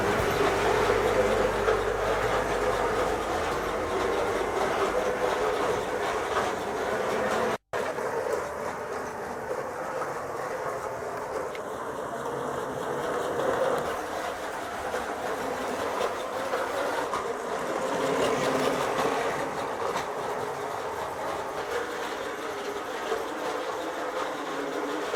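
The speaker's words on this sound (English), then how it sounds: "now let's put James on the track. Alright, let's run James" A small Lionel G scale Thomas the Tank Engine model train rumbles and clatters steadily along its track at close range, with no talking.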